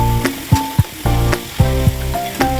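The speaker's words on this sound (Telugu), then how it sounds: "వెల్లుల్లిపాయలు వేసుకోండి, కరివేపాకు కొద్దిగా వేసుకోండి, బాగా కలుపుకోవాలి." Garlic and curry leaves sizzle steadily in hot oil, with repeated scraping strokes of a spoon stirring them every few moments; close and fairly loud, no voices.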